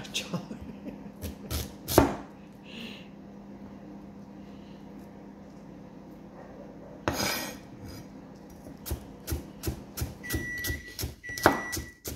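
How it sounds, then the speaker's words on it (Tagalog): Onion sliced with a knife while Filipino spaghetti is prepared: several sharp, close knife taps on a cutting board, a few in quick succession near the end, with a soft hum and someone speaking between the cuts. "Because I am starting to slice the onion now."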